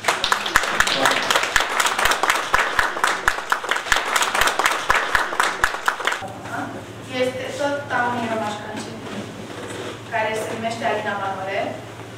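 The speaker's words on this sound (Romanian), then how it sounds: "Eu cred că trebuie să aplaudăm pe toți." Audience applause at a Bessarabian cultural evening, a dense burst of clapping for about six seconds that then gives way to speech with no clapping beneath it.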